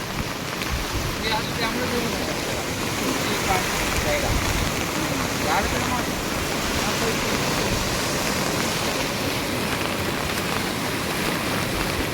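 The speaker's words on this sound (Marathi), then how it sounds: "वरून पाऊस पडत आहे पाहू शकता तुम्ही पाण्याचा विकराळ रूप" Loud, unbroken roar of heavy monsoon rain and a rushing, flooded river in Latur district, a dense wash of noise that stays steady throughout.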